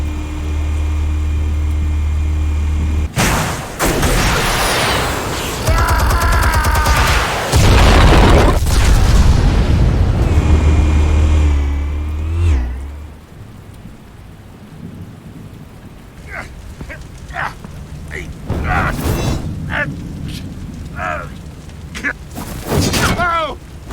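Explosives detonate in Batman: The Telltale Series, heavy booming blasts rolling for several seconds, loud and near, then fading into scattered smaller impacts and debris noise.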